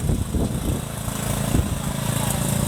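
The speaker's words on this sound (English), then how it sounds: "I've got a lawnmower coming down the road" A lawnmower drives down a road nearby, its engine putting out a steady, fairly loud drone with some rough low sputtering.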